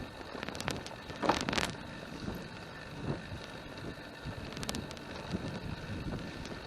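Heavy breeze buffets the microphone on a recumbent bicycle ride along a concrete path, a continuous rushing roar with gusty swells, close and fairly loud.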